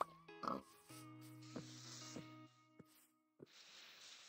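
Pig oinking in Minecraft survival gameplay: a few short grunting snorts near the start, then sustained tonal game sounds and a hissy noise burst later, no talking.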